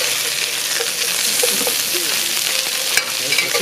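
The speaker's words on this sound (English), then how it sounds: "So I'm gonna put the asparagus in it. So now you can stir fry it." Asparagus stir frying in a pan as part of a quick multi-dish meal, a steady close sizzle with soft scraping and stirring movements throughout, and a sharp tap near the end.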